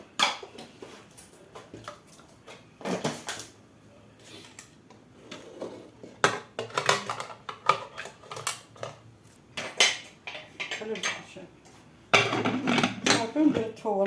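Metal pot and lid clatter in a home kitchen while a fish tagine is prepared in a pressure cooker, with irregular knocks and clinks coming in bursts, some sharp and close, and scattered quieter handling between them.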